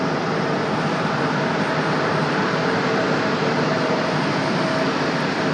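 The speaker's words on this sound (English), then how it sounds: "Delta 817 coming in from Boston, an A319" A Delta Airbus A319 jet arrives from Boston at Raleigh-Durham International Airport, its engines a loud, steady roar that holds throughout.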